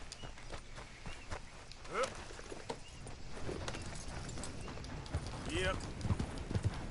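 Horse hooves clip-clop at a steady walking pace on an in-game ride in Red Dead Redemption 2, moderately close, with a voice talking over the hoofbeats.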